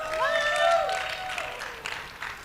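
Audience applause and cheering for contestants on stage at a design competition event, a dense wash of clapping with a few bright whistles rising early on, then fading slightly.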